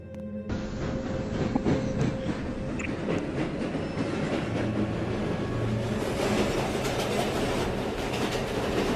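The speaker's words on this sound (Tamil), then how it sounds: "நான் ட்ரெயின் எடுக்கிறேன்." A video game train, in a Roblox game, rumbles steadily along the tracks with a continuous rolling roar and faint rhythmic clacking, holding a constant loudness throughout.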